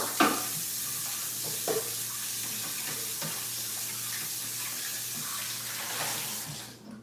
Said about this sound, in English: So I'm going to rinse the pot out.